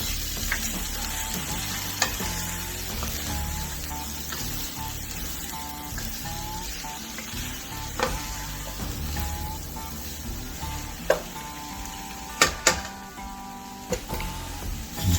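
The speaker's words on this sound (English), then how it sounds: "My main thing right now is to get this butter melted." Butter and oil melting and sizzling in a pan for a turkey pot pie, a steady moderate sizzle with scattered clinks and scrapes of a utensil, busier toward the end.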